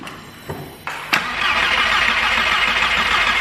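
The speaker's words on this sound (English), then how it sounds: "we are going to turn it over a couple of turns to fill the oil in the turbo" Skoda Octavia vRS engine with a newly fitted turbo cranking over on the starter, a few clicks and clunks followed by a steady, loud whirring churn that runs on without catching.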